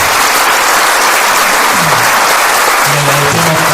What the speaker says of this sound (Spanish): Así que le vamos a dar un gran aplauso a Leonardo.